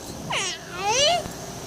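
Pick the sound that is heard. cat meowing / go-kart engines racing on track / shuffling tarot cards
cat meowing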